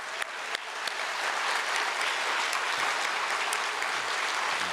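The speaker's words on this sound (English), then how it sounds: "we want to give them a big round of applause," At a BVA graduation ceremony, a large audience gives the graduates sustained applause, beginning with a few sharp claps and building into a thick, even roar of clapping.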